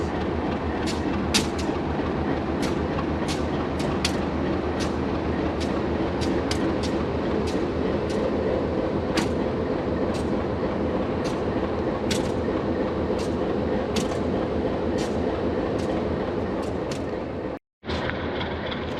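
A diesel Durango & Silverton train rumbles steadily close by as it comes into the station, with repeated sharp metallic clicks and clanks from the wheels over about twenty seconds, then a brief cut.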